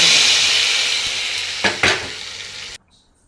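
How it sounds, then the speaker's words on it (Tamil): Dried red chillies and tempering spices crackling in hot oil, a loud steady sizzle with two quick stirring scrapes near the end before the sound cuts off abruptly. "இப்போ எண்ணெய் விட்டு காஞ்ச மிளகாயும் தாளிப்பு உடனையும் போட்டுருக்கேன்."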